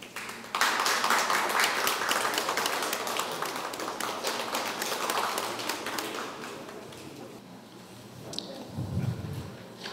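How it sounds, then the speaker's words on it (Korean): Audience at an education innovation forum breaks into sustained applause lasting several seconds, dense and steady before thinning out, with a brief low thump near the end. "나오실 때 큰 박수 부탁드리겠습니다"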